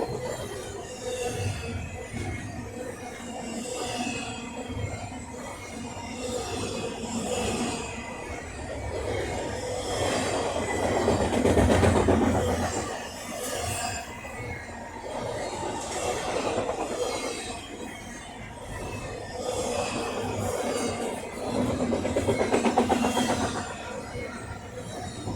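A northbound Union Pacific Z freight train meets a southbound FrontRunner commuter train, a continuous rumbling roar of passing railcars with wheel squeal and clicking rail joints, swelling twice as the trains go by.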